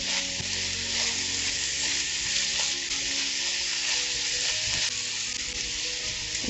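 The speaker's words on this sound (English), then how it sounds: "I'm going to add our sausage to this. We want to saute everything together nicely." Sausage sautéing with onions and garlic in a pan gives a loud, steady, close sizzle throughout, with occasional soft clinks of a utensil stirring.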